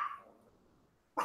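A dog gives two short, sharp barks, one at the very start and one at the end, separated by a near-silent pause. No one speaks.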